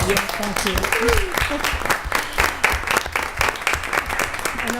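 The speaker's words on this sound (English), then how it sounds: "it would be in order for this board to give you a round of applause" Applause in a county board of supervisors meeting: uneven, fairly close claps from a modest group in a room, with voices talking over the clapping throughout.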